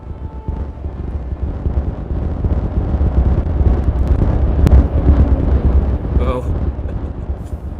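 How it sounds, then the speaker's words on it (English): A giant pile of explosives blowing up in Timberborn: a deep, rolling rumble that swells and roars for several seconds, with a brief exclamation from a voice over it. "now we have this giant explosion pile, so let's just watch it blow up"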